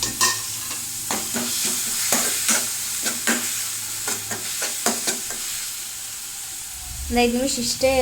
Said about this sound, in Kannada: ಸಣ್ಣಗೆ ಇಟ್ಟು ಮೆಂತೆ ಪಲ್ಯ ಹುರ್ಕೊಳ್ಳೋಣ.